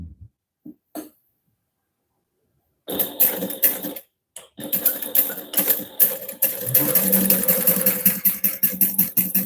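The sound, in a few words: sewing machine top stitching vinyl wallet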